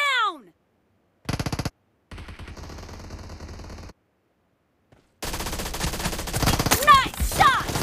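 Gunfire in the game PUBG: bursts of automatic weapon fire separated by short gaps, loud and close, mixed with game effects and a short electronic chirp at the start.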